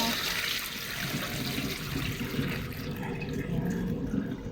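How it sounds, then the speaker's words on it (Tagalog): Hot boiled sweet potato leaves drained in a kitchen, with water splashing and trickling steadily throughout at moderate volume. "Ayan guys, i-drain na natin yung talbos kamote."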